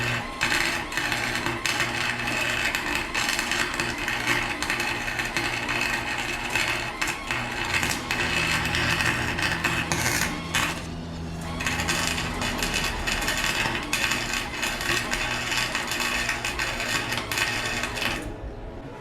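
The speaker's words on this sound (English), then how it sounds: "So I'm just going in there and welding in," Welding on the spider gears of a Nissan 350Z VLSD differential makes a loud, steady crackling buzz that runs almost nonstop, with a brief break partway through.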